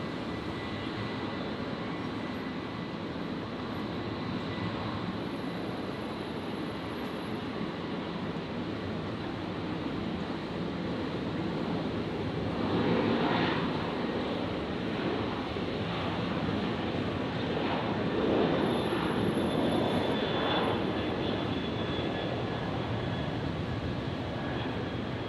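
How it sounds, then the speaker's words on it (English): A Virgin Boeing 737-800 jet takes off from runway 19 left at Brisbane Airport on a calm night, its distant engine roar swelling through the middle of the run and easing off again, with no talking. "we've got Virgin 954 that's just lined up here on 19 left. We've just had the runway switch. Rolling now. The 73800 heading down to Sydney."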